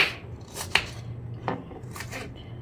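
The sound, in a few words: chopping onions and tomatoes with a knife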